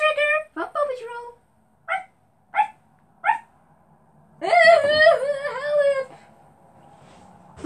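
A dog barks in a few short yips and then lets out a longer whining, whimpering cry, close and fairly loud, in a cartoon scene with voices talking before it.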